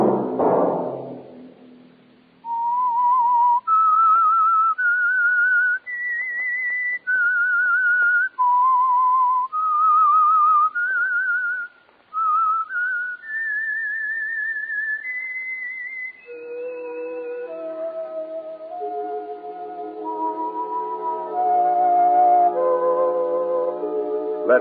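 A clear, bright whistled signal tune carries a stepping melody of sustained notes, heard alone. Partway through it passes into an orchestral musical passage.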